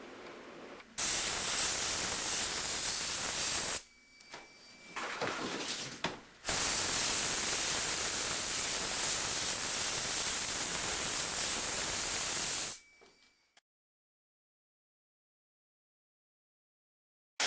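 Spray gun misting PVA release agent onto a fiberglass mold part, a loud steady hissing blast in two long bursts with a brief pause between, then cutting off to silence.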